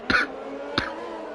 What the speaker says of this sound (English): Oh man, COVID coughing.